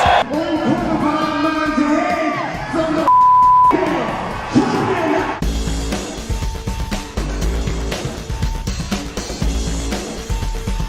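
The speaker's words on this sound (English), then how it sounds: "Listen to the crowd." An arena crowd at a McGregor vs Khabib fight roars and yells, a loud sustained din with whoops and a brief beep, followed by busier broadcast noise with scattered voices.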